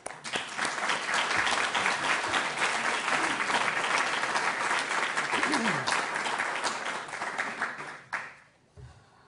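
An audience claps steadily and loudly to welcome a speaker to the podium at a talk on congregational teaching ministry, a dense sustained applause that tapers off near the end.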